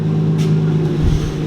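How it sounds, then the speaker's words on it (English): A car engine idles loud and close with an exhaust leak at loose downpipe flex joints, giving a steady hum with a faint ticking rasp and a brief low surge near the end. "I haven't tightened up my downpipe at the flex joints, that's why you probably hear a leak"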